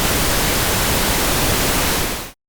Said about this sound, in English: Soundproofing is measured by producing something called pink noise,